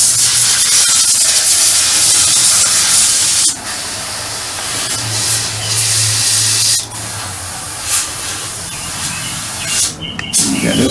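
An airbrush sprays paint onto the road wheels of a StuG III Ausf G scale model, a loud continuous close hiss broken by brief pauses and trigger changes, with no voices.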